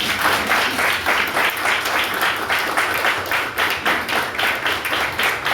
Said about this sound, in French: Je vous demande aussi de m'aider à applaudir, de vous lever même pour applaudir les membres des forces armées d'Haïti.